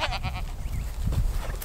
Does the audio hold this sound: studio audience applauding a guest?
no